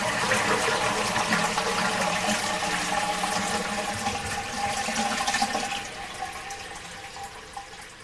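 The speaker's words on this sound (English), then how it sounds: "the sound of a flush rolled through the sky" A toilet flush gives a loud watery rush that drains and fades over several seconds, ending in trickling and faint gurgles.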